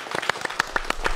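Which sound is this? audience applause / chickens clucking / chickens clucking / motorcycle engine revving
audience applause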